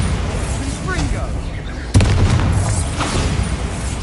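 A Bombarda spell explosion in a Hogwarts video game lands as a sudden, loud boom midway, followed by a rumbling, crackling tail under softer game ambience.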